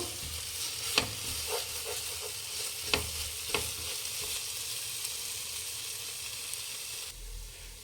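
Egg sizzling as it fries in a pan for egg rice, a steady close hiss broken by a few sharp scrapes of stirring, with no talking.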